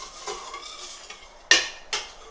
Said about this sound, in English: So I'm just going to continue stirring now